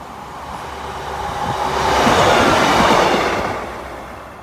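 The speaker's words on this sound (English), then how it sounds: "your 12:27 East Midlands train system Grimsby Town to Newark North Gate" An East Midlands train, the 12:27 Grimsby Town to Newark North Gate service, rushes past Oak Farm level crossing, a broad roar swelling in over a couple of seconds, peaking, then fading as it passes close by with no voices.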